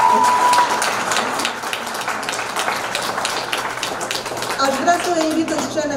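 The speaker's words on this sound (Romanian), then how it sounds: "Aplauze pentru Carolina!" A crowd claps for a children's vocal group member at a summer music concert, the applause dense and continuous throughout, mixed with a speaking voice.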